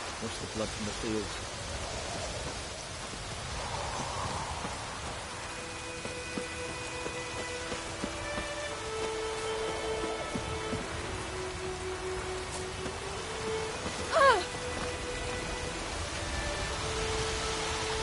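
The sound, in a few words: rain in video game Witcher 3: Wild Hunt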